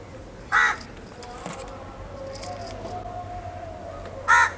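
A crow outdoors gives two loud, harsh caws a few seconds apart, against a quiet background of faint ambient noise.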